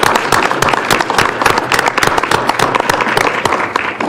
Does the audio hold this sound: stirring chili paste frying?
no